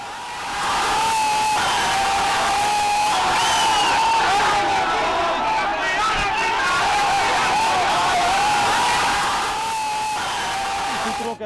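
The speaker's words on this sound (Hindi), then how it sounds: "समर्थकों की भीड़ ने तेजस्वी के समर्थन में जमकर नारे लगाए।" A large crowd of supporters of Tejashwi loudly chants slogans and cheers, a dense, sustained roar of many voices with rising and falling shouted calls lasting several seconds before fading at the end.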